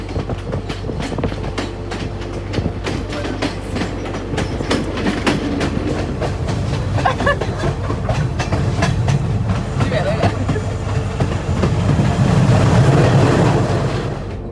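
A tourist train pulled by a locomotive rolls through Sri Lanka's mountains past waterfalls, its carriages giving a continuous rattling clickety-clack that grows louder toward the end, with faint voices now and then.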